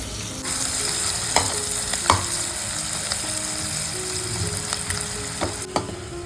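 Mushrooms fry in hot oil until browned, a steady close sizzle running throughout with a few sharp clicks and scrapes from stirring.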